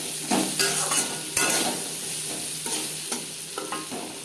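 Pieces of taro fry with salt and turmeric in a pan, producing a steady close sizzle overlaid with irregular scraping and clinking strokes of a spoon against the pan, heavier early on, with no one speaking.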